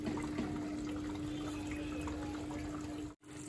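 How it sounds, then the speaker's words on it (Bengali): Water running steadily from a tap, a close, continuous rushing flow that cuts out briefly near the end, with no one speaking. "এবার জল এসছে।"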